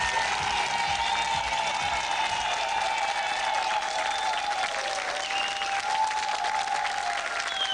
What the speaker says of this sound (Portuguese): depois de os dizer a todos, podem aplaudi-los o Paulo, o Orlando, o Rui Leitão, o Eduardo